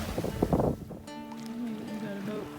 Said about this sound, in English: We've got about 5 knots of wind.